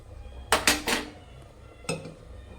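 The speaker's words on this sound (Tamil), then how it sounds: "தட்டை போட்டு மூடி வச்சிருங்க" Three quick ceramic clinks and clatters in a row as a plate is set over a pot as a lid, then a single softer clink a moment later, close and otherwise quiet.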